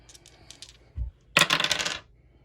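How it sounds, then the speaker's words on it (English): Dice rolled for a board game: a low thump, then a burst of rattling clatter across the board lasting about half a second, close and fairly loud in a quiet room. "Okay, I've got my dice and the board, and I'm going to roll again."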